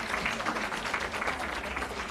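Audience applause at a women's rights convention panel: steady clapping from many hands, moderately close and continuous with no voices over it.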